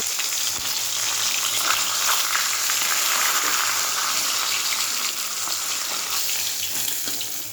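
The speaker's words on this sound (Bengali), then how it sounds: "মাছও একসঙ্গে ভেজে নিলাম মাথার সঙ্গে।" Rohu fish heads and pieces frying together in hot oil, a loud, continuous crackling sizzle that stays dense and steady throughout with no voices.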